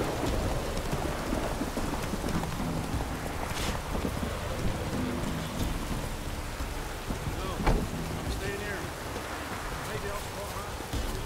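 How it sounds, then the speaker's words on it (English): Heavy rain hisses steadily with a low thunder rumble underneath during a lightning strike, a few sharper cracks standing out mid-clip, dense and continuous throughout with no clear speech. "Lightning strike."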